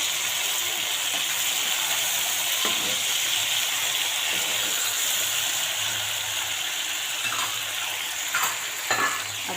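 Tomatoes hitting hot oil already frying with green chillies and coriander give a loud, steady sizzle with scraping and stirring throughout, close and continuous, with a few sharper pops near the end.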